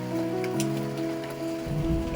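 Rain patters steadily on a surface, a soft continuous wash of drops with a low hum beneath and no voices.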